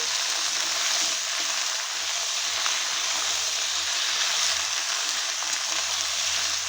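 Malabar spinach seeds and morola fish fry steadily in a pan with a continuous close, loud sizzle; faint stirring scrapes run under it with no talk.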